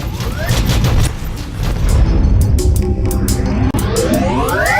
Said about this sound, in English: I'm hearing the shooty sound, but I don't see you guys